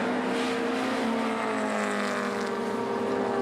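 A pack of BMW E30 and open-class race cars at Pukekohe accelerate away from the start, their engines a loud, sustained roar climbing in pitch with overlapping whines.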